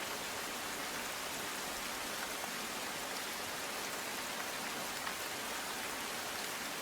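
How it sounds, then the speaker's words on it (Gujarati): Monsoon rain pours down in Dehgam, Gujarat as an even, dense hiss of drops on surfaces, continuous and unvarying throughout, with no voices. "દહેગામમાં ગાજવીજ સાથે વરસાદી માહોલ જામ્યો છે"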